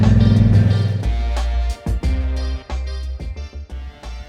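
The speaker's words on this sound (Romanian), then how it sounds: "Dar parcă și motorul merge altfel." A motorcycle engine running on a mountain road in Durmitor, Montenegro, loud and close, with a steady low drone that drops and returns in choppy bursts as the throttle varies.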